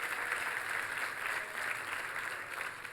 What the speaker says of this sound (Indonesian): Ayo tepuk tangan yang paling meriah buat Tuhan kita.